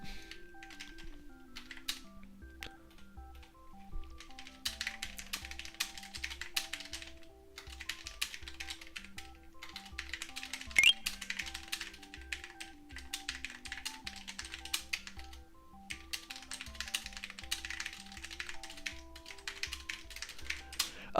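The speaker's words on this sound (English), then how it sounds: "just enjoy the sounds of the keyboard, my friends" Rapid typing on a computer keyboard, close and clear, in uneven bursts of key clicks separated by short pauses and continuing throughout, with a faint steady tone and low thumps in the background.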